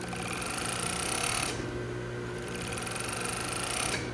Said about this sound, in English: Now we're going to serge or overlock the edges of the fabric.